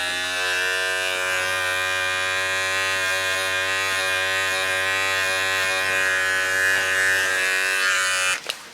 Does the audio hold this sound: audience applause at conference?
no